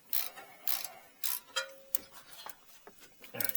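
Sharp mechanical clicks from a torque wrench tightening brake bolts on a Toyota Tundra, several close, distinct snaps in an uneven rhythm with quiet gaps between.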